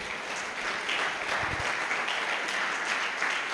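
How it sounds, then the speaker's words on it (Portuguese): Church congregation applauding in a continuous dense wash of clapping, moderately loud and even throughout. "Você pode aplaudir o Senhor por esta palavra?"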